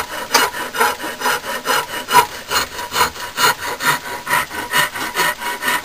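A hand file rasps across the scale of a bush knife in steady rhythmic strokes, roughly two per second, close and loud, a gritty scraping with no talking.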